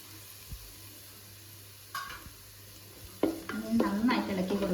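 Ground tomato stirred and fried in oil in a pan for homemade noodles, starting with faint scrapes and then becoming a louder, continuous sizzle with stirring scrapes near the end.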